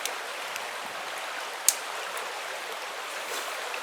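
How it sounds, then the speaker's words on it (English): Light rain sprinkles outdoors, a steady soft hiss of fine drops with a few isolated louder pattering hits, continuous and without voices. "It's sprinkling right now, and hopefully it doesn't downpour."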